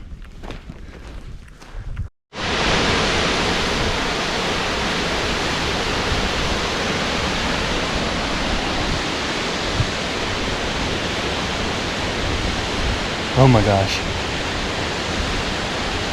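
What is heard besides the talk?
Tuolumne Falls waterfall, Yosemite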